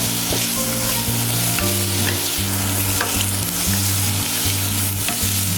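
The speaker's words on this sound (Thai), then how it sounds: "เราจะเจียวเบคอนให้แบบ น้ำมันออกเหลืองกรอบ" Bacon frying in plenty of oil for bacon fried rice, a loud, dense, continuous crackling sizzle close up, with stirring and no voices.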